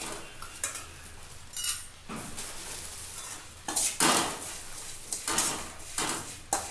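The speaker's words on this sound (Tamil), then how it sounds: "2 கப்பு வந்துட்டு அவல் நல்லா போட்டு வறுக்கணும்." Flattened rice (aval) dry-roasting in ghee in a kadai, with bursts of scraping and stirring from a spatula against the pan over a low background hiss, no talking.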